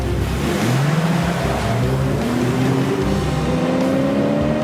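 A car is driven at high speed, its engine a loud, continuous roar that rises in pitch through several gear changes, close and steady, with no one talking over it.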